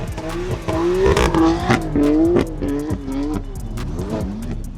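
A rear-wheel-drive BMW M2 drifts on a track, its engine revving loudly with rising and falling pitch and tire squeal throughout, close and continuous.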